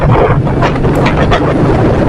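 Strong wind buffeting a microphone on a moving motorcycle on the way to the market, a loud, steady broadband roar with low rumble and no pauses.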